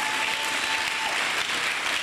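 A church congregation claps for Jesus in steady, dense applause that fills the space and holds at an even loudness throughout.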